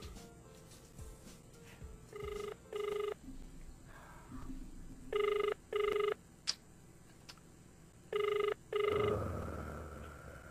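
A telephone rings in repeated double bursts, three pairs of electronic trills with pauses between, heard clearly over a faint hum.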